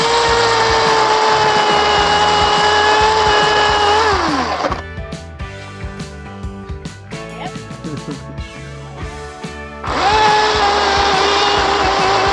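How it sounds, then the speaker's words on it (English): A chainsaw whines loudly, bogs down as it bites into wooden posts at a cabin build, then falls quiet for several seconds of clattering before revving up again. "we took the chainsaw and cut off the tops of all the posts"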